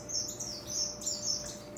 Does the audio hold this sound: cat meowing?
no